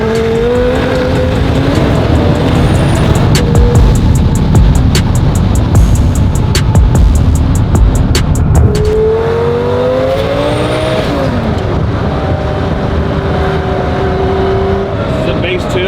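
A car engine runs loud and close with rising and falling revs, a tuned motor being broken in, its pitch climbing and dropping in sweeps over a constant rumble, with no talking.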